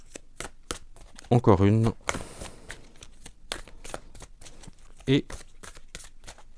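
Tarot cards are handled and shuffled close by in quick riffling bursts, with a few sharp card taps, while someone talks over them.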